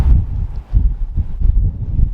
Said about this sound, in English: it is so cold and so windy